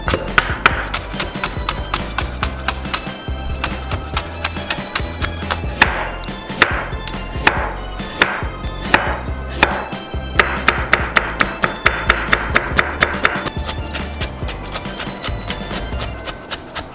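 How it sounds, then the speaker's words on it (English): Vegetables being shredded with a knife on a board for Korean street toast, a fast steady run of crisp chopping taps, close and fairly loud, continuing with few pauses. "First of all, you need to shred some vegetables."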